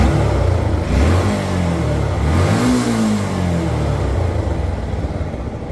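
A stock 2014 Yamaha FZ16 motorcycle with close to 80,000 km on the engine revs up and settles again, its mid-pitched single-cylinder note rising and falling steadily, close by with no talking.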